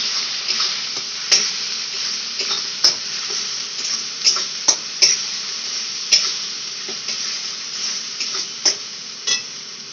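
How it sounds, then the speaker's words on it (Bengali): Masala spice paste fries in a pan for a home-style prawn curry, a steady hiss of sizzling with scattered sharp clinks and scrapes as a spoon stirs it, close and continuous with no voices. "দিয়ে ভালো করে কষিয়ে নেওয়া হচ্ছে মশলাটা"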